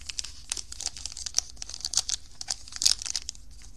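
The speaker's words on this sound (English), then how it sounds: "If I can get the first pack open." An NFL trading card pack is torn open by hand, with close, crinkly foil crackles and sharp rips coming in bursts over a few seconds, with no voices.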